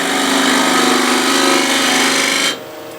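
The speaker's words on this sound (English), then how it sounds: "I'll use again the same continental spindle gouge" A wood lathe spins while a continental spindle gouge cuts a bowl, giving a loud, steady whirring rasp that stops abruptly, leaving only a faint motor hum.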